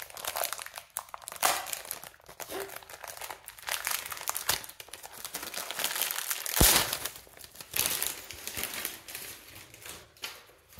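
Plastic lucky bag packaging being torn open by teeth, a close, soft run of crinkling and crunching with small tearing bursts and one sharper snap, fairly quiet throughout.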